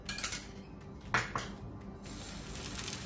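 Rice fingers made from leftover rice set one at a time onto a lightly oiled dosa griddle, giving a few close clinks and soft taps with a faint sizzle under them, no talking.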